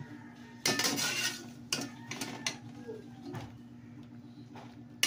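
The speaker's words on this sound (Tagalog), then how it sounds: "Lagay natin sa plato." Sigarilyas (winged bean) salad is spooned onto a plate, with several clattering clinks and scrapes of utensil against dish, close and fairly loud, then quieter taps.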